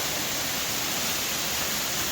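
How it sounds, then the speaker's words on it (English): A small underground waterfall inside an old mine, a constant dense rush of falling water that holds steady and fills the space without any talk. "there's the baby waterfall"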